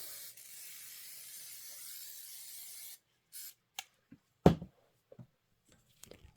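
A spray bottle mists fabric on a quilt block in a steady hiss for about three seconds, then quiet handling with a few brief rubs and taps on the fabric.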